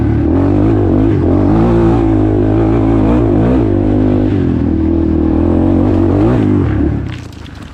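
A Yamaha TTR 230 dirt bike engine revving loud and close with a clutch problem, a sustained buzzing drone that wavers up and down in pitch before dropping off abruptly near the end.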